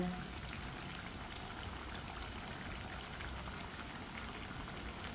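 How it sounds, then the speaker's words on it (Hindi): Potato tikkis frying in hot oil, a dense, even crackling sizzle like heavy rain, constant and close, with no other sounds. "आपको जिधर से कच्ची लगे टिक्की आप उधर से उसको उल्टा के फ्राई कर सकते हैं।"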